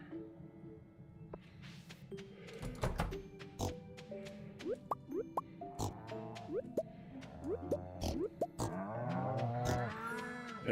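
Pigs in the video game Stardew Valley grunt and oink in a string of short calls, joined by cattle lowing near the end, with scattered dripping plops and a voice talking softly in the background.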